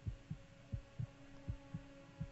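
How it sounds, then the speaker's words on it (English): Heartbeat effect from the video game Fallout 3 at low health: a steady, deep thumping pulse, about seven beats in quick succession over a low hum, with no talking. "For some reason, I hear a heartbeat right now on the game."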